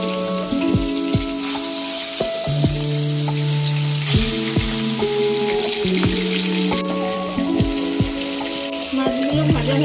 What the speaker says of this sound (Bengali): সরষের তেল গরম করে মাছগুলো একে একে ছেড়ে দিচ্ছি।